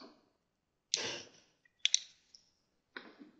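Computer mouse buttons clicking while working in a paint program's tool presets, a few sharp isolated clicks spaced across a quiet background, close and fairly faint.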